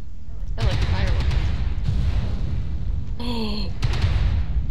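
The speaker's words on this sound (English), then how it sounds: "Airstrike online. I like fireworks." Airstrike blasts in the mech combat game MechWarrior Online, a continuous rumbling barrage of booms and bursts with sharp cracks partway through, loud and sustained, mixed with a voice.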